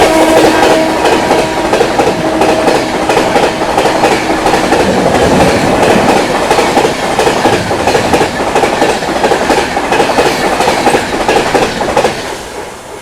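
The New Delhi–Bhubaneswar Tejas Rajdhani Express, train 22812, roars past at about 130 km/h, a loud, sustained rush of wheels with rhythmic clickety-clack over the rails that continues for the whole stretch and eases slightly at the end.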